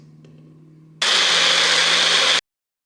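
A food processor whirs loudly for about a second and a half as it grinds cilantro for a cilantro-jalapeno green sauce, starting abruptly over a low hum and cutting off just as suddenly.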